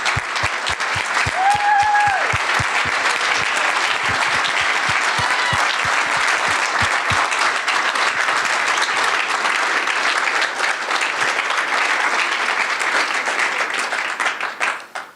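A standing audience gives prolonged, dense applause for the Kaufman family at a presentation for a natatorium at Ty Warner Park, steady and loud before tapering off at the end, with a few faint voices rising early on.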